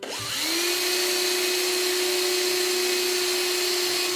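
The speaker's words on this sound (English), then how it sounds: "So we're drilling from 4 sort of sides." A drill bores into wood in a woodcarving workshop, starting with a short rising whine that settles into a steady, high-pitched motor drone, close and continuous.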